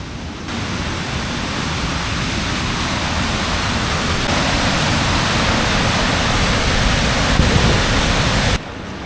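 Water rushes steadily over Monsal Dale Weir in the Peak District, a loud, continuous broadband roar with no pauses that cuts off abruptly near the end.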